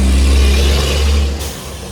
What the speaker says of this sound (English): You got that loud truck.